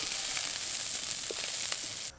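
Large prawns frying in hot oil in a home kitchen, a steady close sizzle with small pops and crackles, cutting off abruptly at the end.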